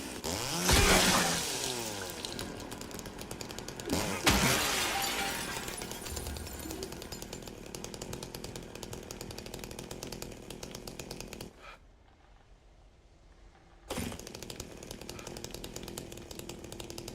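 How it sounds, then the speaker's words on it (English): A chainsaw runs in an abandoned hotel, its engine roaring and revving loudly with two hard bursts early on, then droning steadily. The engine drops briefly to near silence before roaring back. "Someone was asking if I would only be using the chainsaw."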